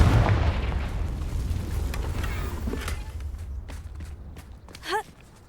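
In Hogwarts Legacy, the Confringo blasting curse bursts in a heavy explosive boom at the start, and its rumble fades over several seconds. A few sharper pops and a short whooshing flourish follow near the end.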